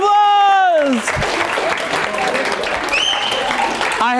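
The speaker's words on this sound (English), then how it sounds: "Give them a round of applause" Sustained applause from a crowd at a college student event fills the room, steady and loud throughout, with a voice briefly speaking at the start and again at the end.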